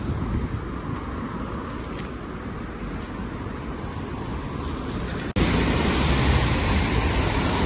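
Busy morning road traffic on Manchester streets, a steady broadband roar of passing vehicles with wind buffeting the microphone, broken by a brief dropout before the rumble resumes slightly louder.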